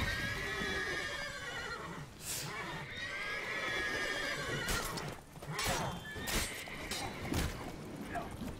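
Horses in The Witcher 3: Wild Hunt neigh and whinny several times over the clatter of galloping hooves, with combat noise and a voice talking over them.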